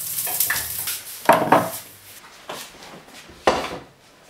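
A fried brick pastry is lifted out of the pan after the gas is switched off, giving a few close scraping and clattering kitchen-utensil sounds in short separate bursts with quiet gaps between.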